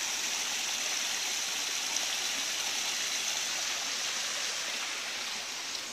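Waterfall at Cachoeira do Mendanha in the Mendanha park, Bangu, heard as a steady, loud, broadband rush of falling water that stays unbroken and fills the whole stretch.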